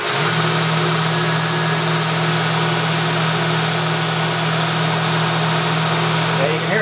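Motor on a Datsun 521 project driving a belt at a slightly lower speed than normal: a loud, constant mechanical hum and whir with an even drone, steady from start to finish with no pauses.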